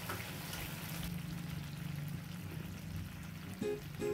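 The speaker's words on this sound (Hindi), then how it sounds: "एक पैन में डालते हैं 1 कप बारबेक्यू सॉस।" A cup of barbecue sauce pours into a pan in a home kitchen, a soft, quiet liquid glug and trickle lasting a few seconds, ending with a brief clatter.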